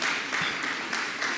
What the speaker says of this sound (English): please, a round of applause for me